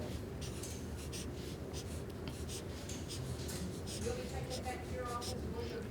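A pen draws on a mathematics work mat with continuous close scratching strokes, steady and fairly soft, with faint breathing and room noise underneath.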